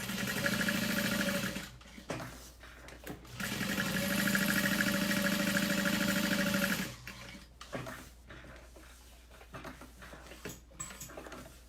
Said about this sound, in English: I'm going to go ahead and base stitch along the entire piece.